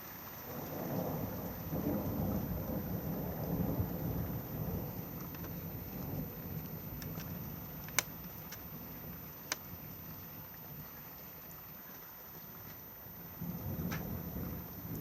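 During a night lightning storm, low rolling thunder rumbles steadily under falling rain, with a few sharp crackles and drips punctuating the continuous wash of sound, at a moderate distance.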